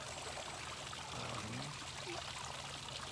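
Water trickles and pours steadily into a landscaped garden pond, a continuous close wash of sound with no voices.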